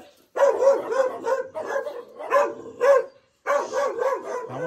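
Pet dogs in a rural Chiapas setting bark in repeated loud bursts and yips, grouped in several clusters with short pauses between.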